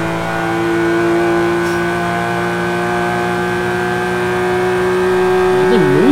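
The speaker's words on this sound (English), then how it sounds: "Yeah, I think this is the S38 engine." A 1995 BMW E34 M5 with a turbocharged S38 inline-six in Forza Horizon 3, engine holding a steady high drone with strong harmonics, then briefly wavering as revs fluctuate near the end, no talk.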